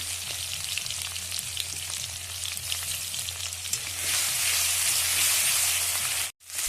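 A paste of tomato, ginger, garlic and onion sizzles steadily in a pan, a dense close hiss with faint stirring scrapes, brightening toward the end before a brief dropout; no one speaks.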